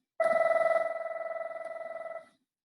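A telephone rings mid-lecture with a steady electronic trill, a rapid pulsing tone repeated for about two seconds before cutting off, fairly loud and close against a quiet room.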